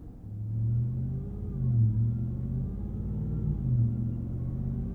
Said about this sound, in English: You can really isolate that supercharger whine by playing around with the rev range,